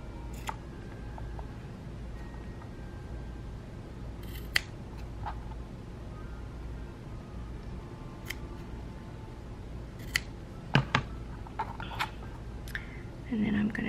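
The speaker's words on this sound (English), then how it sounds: "I'm gonna trim some of this bigger fabric back" Scissors snip through leftover fabric scraps while trimming excess around a button back, a few sparse, fairly quiet clicks and cuts against a low steady room hum.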